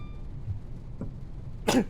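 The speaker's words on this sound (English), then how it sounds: "That sneeze caught me off guard." A single sudden sneeze bursts out near the end after quiet room noise, close and abrupt, with a faint earlier cough-like catch.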